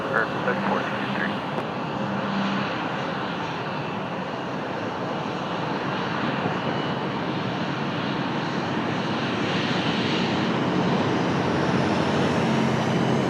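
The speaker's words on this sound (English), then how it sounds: "Nice departure for Avianca." An Avianca airliner departing, its jet engines giving a sustained broad roar that swells slightly toward the end, with brief radio voices near the start.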